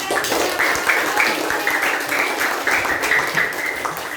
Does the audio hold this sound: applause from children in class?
yes